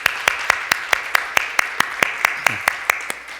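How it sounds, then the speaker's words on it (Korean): Church congregation at a Korean Sunday thanksgiving service clapping in a steady, even rhythm, about fifteen sharp claps in a row. A brief voice is heard partway through. "우리 박수로 환영하시겠습니다"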